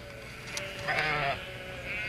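A sheep bleats once, a short wavering call near the middle, out in a field where a farmer is bringing feed, set against a steady outdoor background.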